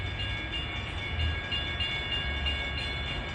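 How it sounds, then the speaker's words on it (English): Commuter train 1167 bound for Suffolk draws near at a New Jersey rail line in mild weather, a steady low rumble and rolling wheel noise holding at a fairly loud, even level with no voices. "approaching at 5:39 is train 1167, bound for Suffolk"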